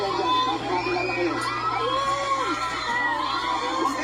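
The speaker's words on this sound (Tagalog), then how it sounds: "Huwag kayo sumigaw, hindi natin marinig ang pangalan." A crowd of children shouting and cheering together, loud and continuous, with overlapping cries and whoops filling the whole stretch.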